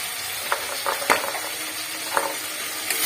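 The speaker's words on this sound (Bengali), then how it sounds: "পোস্ত বাটা দিয়ে কষতে থাকবে" Ginger, dried chili, turmeric and poppy seed paste sizzle steadily in hot oil for an eggplant jhal, with occasional soft scrapes and stirring clicks from a spatula.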